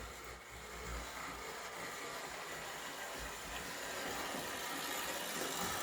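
A Kingsbury toy trolley creeps along at its slowest speed, its DC motor giving a faint, steady low hum and soft rolling rattle throughout, with no talking.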